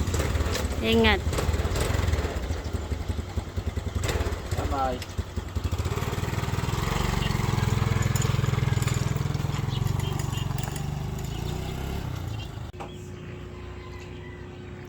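A motorcycle engine runs close by, revving then settling into a steady idle, with brief voices speaking over it early on.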